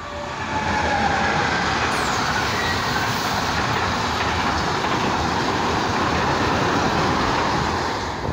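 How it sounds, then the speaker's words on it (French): A German DB train rolls past close by at Graffenstaden station, a loud steady rumble and clatter of wheels on track that holds throughout and eases slightly at the end. "C'est un train allemand."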